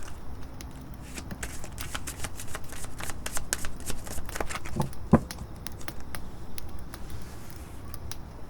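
Tarot cards shuffled and handled for a weekly reading draw, giving a steady run of soft, close riffling and flicking taps with one sharper snap midway, no talking.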